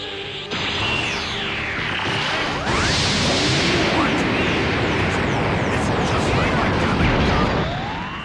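A Galick Gun energy attack from Dragon Ball Z Budokai Tenkaichi 3 roars continuously, with sweeping whooshes, rising and falling pitched tones and dense crashing blasts filling the whole stretch at high volume.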